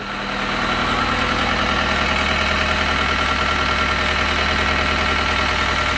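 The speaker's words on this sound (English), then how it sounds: "Little belt squeal on the alternator." A John Deere 320D skid steer engine idles steadily and loudly, a rough running diesel rumble with a faint high belt squeal from the alternator running through it the whole time.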